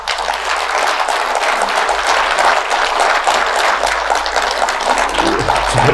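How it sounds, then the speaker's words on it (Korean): Steady, dense applause from a large audience at a Korean public lecture, loud and continuous for several seconds with no talk over it. "김창기 사장께 박수를 보내주시기 바랍니다"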